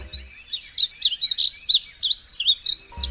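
A small songbird with bright yellowy-green plumage sings a rapid, high, warbling trill. Its run of quick wavering notes carries clearly and close over near silence for about three seconds.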